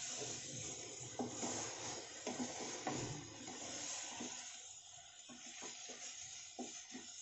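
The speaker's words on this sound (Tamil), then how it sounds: "நல்லா கிண்டி விட்டுக்குங்க." Vegetable noodles tossed with oil in a hot kadai give a soft steady sizzle and hiss, with occasional scraping stirs of a spatula against the pan, close but fairly quiet.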